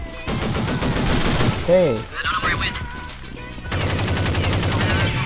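Rapid gunfire and machine-gun bursts from the video game Counter-Strike come in loud, close stretches broken by a short pause, with players talking and calling out over the shots.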